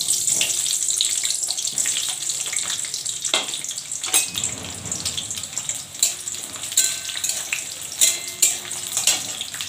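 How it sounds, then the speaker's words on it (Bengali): Onions and a bay leaf frying in oil for chicken sundari, a steady bright sizzle running the whole time, with a few louder spatters and the scrape of stirring near the end. "পেঁয়াজটা একটু লাল লাল করে ভেজে নেব।"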